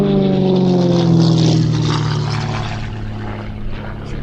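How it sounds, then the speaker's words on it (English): A Gamebird aerobatic propeller aircraft flies overhead, its engine droning loud and steady with a rising and falling pitch as it passes, gradually easing away. "This is the development of those aircraft, the Gamebird."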